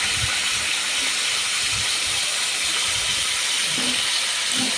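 Marinated chicken hits a hot pan with a loud, steady, broadband sizzle and hiss that lasts throughout, with a few faint low thumps of the meat settling.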